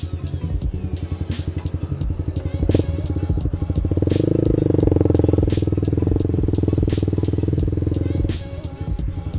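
A motorcycle engine runs steadily and rises in pitch as it accelerates, with clattering and wind noise while riding.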